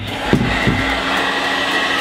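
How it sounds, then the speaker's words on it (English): Steady, loud whooshing of a hair dryer blowing continuously at close range, with a couple of brief knocks near the start. "Grab our hairdryer"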